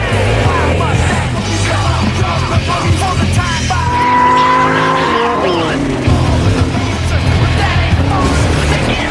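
Cars race and crash on a gravel track in a street-racing film, engines roaring loudly throughout with a sharp tire squeal and skid midway, scraping impact noise, and a brief yell in the mix.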